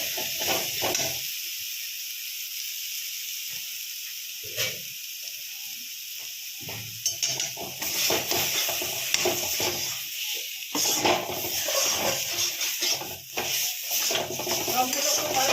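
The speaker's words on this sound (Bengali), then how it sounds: "এখন খুব ভালো করে কষিয়ে নেব।" A spiced vegetarian mixture with a little flour, for jackfruit dhoka, is sautéed in a pan: a steady frying hiss with intermittent scraping stirs that grow busier and louder in the second half.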